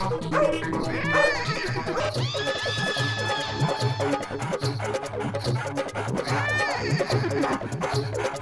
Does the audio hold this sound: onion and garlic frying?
no